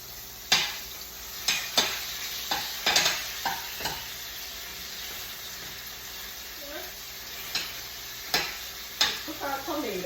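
Tomatoes fry in oil in a pan for a Caribbean fish and black beans rice dish, with a steady sizzle under repeated sharp spoon clinks and scrapes against the pan.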